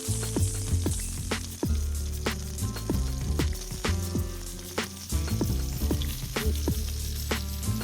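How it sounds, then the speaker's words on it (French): Fish sizzles in a hot pan with butter, cooked meunière style: a loud, steady, close frying hiss flecked with constant crackles and pops, no voices. "Quand il est coloré, baissez le feu et ajoutez un peu de beurre."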